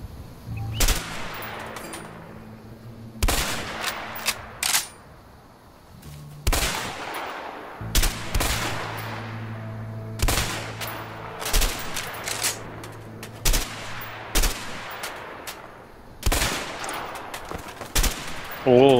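Guns in the game A Way Out fire in sharp, close shots and short bursts, spaced irregularly across the stretch, each with a quick decay. A player's voice talks between the shots.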